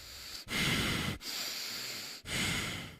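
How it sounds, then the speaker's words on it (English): Slow, deep human breathing close to the mic, three long airy breaths separated by brief pauses, steady and unhurried with no talking. "By breathing slowly and deeply, they minimized the amount of cold air entering their lungs."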